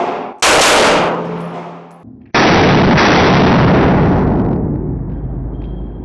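Two loud pistol shots fired close by, the first a sharp crack with a brief decay, the second following about two seconds later and trailing into a long ringing echo.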